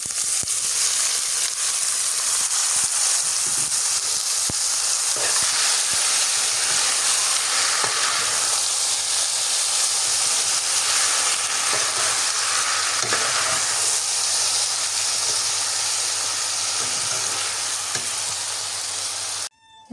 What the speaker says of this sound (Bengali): পিঁয়াজ মরিচ ভাজা হয়ে গেছে এবার লাউ দিয়ে দিই